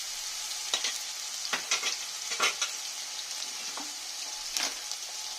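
Ginger paste and green chili paste fry in hot oil for a fish dish, a steady sizzle broken by a few sharper crackles and stirring scrapes, close and alone.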